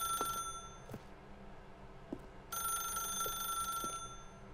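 A telephone rings in The Stanley Parable, a bright electronic trill repeating in two spaced bursts over a quiet, humming room tone with faint soft thuds.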